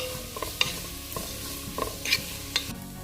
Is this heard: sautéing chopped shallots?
yes